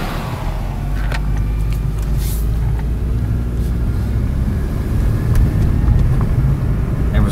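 A 2004 Mercedes-Benz Kompressor car's engine drones steadily from inside the cabin during a drive, with a low rumble and road noise carrying through a gear shift, and brief faint clicks overhead.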